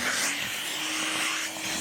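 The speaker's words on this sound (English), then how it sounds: "So we'll just put our hoover on." A hoover vacuum cleaner runs steadily next to a workpiece of MDF being bored with a 50mm Forstner bit, producing a constant airy whooshing roar with a low motor hum and no speech.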